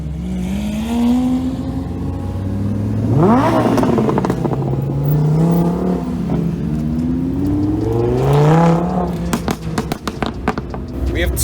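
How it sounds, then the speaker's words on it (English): Lamborghini Aventador Ultimae V12s fitted with GINTANI F1 exhausts rev at a car meet, rising and falling engine pitch in two big swells with sharp crackles at the end, while people talk nearby. "And that black one there, that one also has a GINTANI F1 exhaust."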